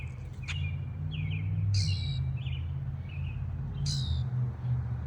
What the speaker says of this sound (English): That bird is making both of those weird noises. It's making that noise and the chop, chop, chop noise.